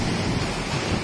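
Ocean waves wash steadily at night beside a long bridge on a beach at Koh Lanta, Krabi, a continuous broad roar with wind-like rumble and no one talking.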